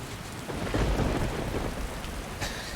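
Thunderstorm in the video game Skyrim, with heavy rain hissing steadily while a low thunder rumble swells in the middle, loud and close, no talking.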